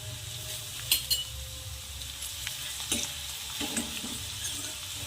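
Garlic sizzles as it goes into browning onions in a pan for a ridge gourd vegetable dish, with a steady hiss and a few sharp clinks of a spoon against the pan partway through.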